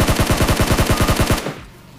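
Automatic weapon fire in PUBG Mobile, a fast rapid burst of about a dozen loud, evenly spaced shots that cuts off abruptly, followed by a faint tail of quiet game ambience.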